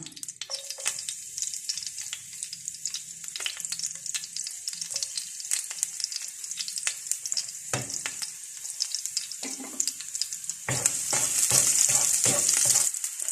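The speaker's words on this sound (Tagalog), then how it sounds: "pwede na po natin igisa ang ating bawang" Garlic sautéing in a hot kawali (pan) for adobong sitaw gives a steady close sizzle broken by stirring scrapes, swelling louder and brighter near the end.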